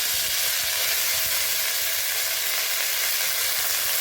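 Gima greens tossed into a hot pan with chillies, giving a steady, loud, close frying sizzle with a dense hiss throughout and no talk.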